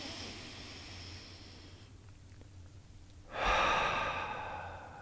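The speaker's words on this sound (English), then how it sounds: "big inhale, fill the heart center in the middle, and as you exhale through the mouth" A slow, deep breath drawn in and pushed out through the mouth during a qigong breathwork session, the soft airy breath followed by a sudden fuller, louder exhale.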